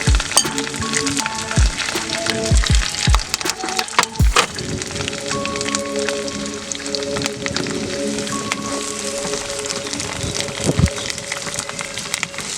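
Onion, green chilies and curry leaves land in hot oil for a prawn fry and sizzle loudly and steadily. The sputtering crackle is close, with a few clinks and scrapes from the pan early on, and nobody speaks.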